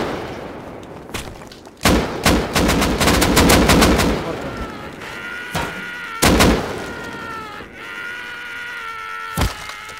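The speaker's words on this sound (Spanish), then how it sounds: "Me están disparando, ¿quién te está disparando?" Gunfire in the survival game Rust: loud, sharp rapid bursts of automatic fire in several clusters, some close and punchy, with quieter gaps and a single shot near the end.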